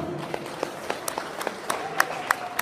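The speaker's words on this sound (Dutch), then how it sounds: "Uw applaus voor Julia Oost en Quinn" Scattered applause for prize winners Julia Oost and Quinn at a Pony Club award ceremony, a thin spread of claps with a few sharper hand strikes, modest and somewhat distant.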